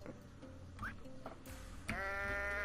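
A goat in the video game Goat Simulator lets out a loud, drawn-out bleat near the end, after a stretch of quieter game sounds and thumps.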